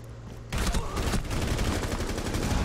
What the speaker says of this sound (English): And Navarro needs to get shotgunned.